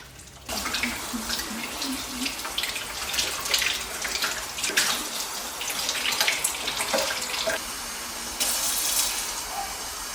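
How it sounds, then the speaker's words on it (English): Running tap water splashes over a metal item as cleaning paste is rinsed off by hand without a scrubber, a steady close gush with small shifts as fingers move under the stream. "I'm going to rinse off the paste with just water and not using any kind of scrub, but just my fingers."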